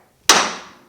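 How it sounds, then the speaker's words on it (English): A single sharp metallic hammer blow lands on the steering knuckle of a 1965 Chevrolet Malibu SS to break loose a locked tapered joint during front suspension removal; the ring decays quickly, close and loud. "hitting the knuckle where the tapers locked it in"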